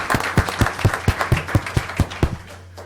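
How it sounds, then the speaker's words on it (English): A short round of applause at a board of education meeting, a modest group clapping in a steady, fairly even rhythm for about three seconds, close and clear. "we'd like to give you all a round of applause."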